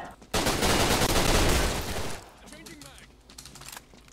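Dense, rapid gunfire from the online shooter game Line of Sight, loud and nearly continuous for about two seconds, then thinning to scattered, quieter shots.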